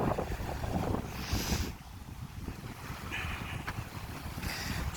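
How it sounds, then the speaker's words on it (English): Small waves lap along a lakeshore beach on Chequamegon Bay, a soft continuous wash of water mixed with wind noise buffeting the microphone, with a few faint gull-like cries drifting in from a distance. "I love the sound of the lapping waves."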